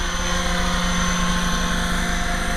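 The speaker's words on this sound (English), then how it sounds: "some helicopter flying." A radio-controlled model helicopter flies close by, its rotor and motor giving a steady, loud, even whine with a pulsing rotor chop throughout, no voices present.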